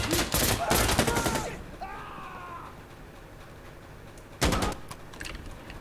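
Loud bursts of rapid gunfire in the Insurgency Sandstorm shooter game, a dense volley at the start and another sharp burst later, with a brief whining tone between them and no clear separate grenade blast.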